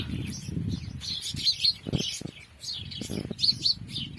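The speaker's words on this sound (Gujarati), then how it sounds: "આપણા કબૂતરા આમ ઉડે છે" Pigeons take off and fly, with bursts of wing flapping and soft fluttering clustered in short bouts, while bright chirps from birds nearby break in repeatedly.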